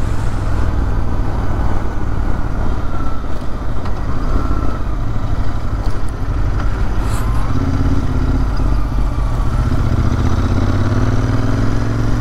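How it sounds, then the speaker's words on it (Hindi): A Royal Enfield Interceptor motorcycle rumbles steadily at night, its engine and exhaust note loud and close throughout, with no speech. "जो इंजन साउंड है ना, ओह exhaust note and the engine very orgasmic"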